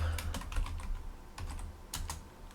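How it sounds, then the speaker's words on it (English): Keys clack on a Commodore 64 computer keyboard in quick, irregular bursts of close, crisp presses over a couple of seconds, with no voices. "I'll just type that in, key press"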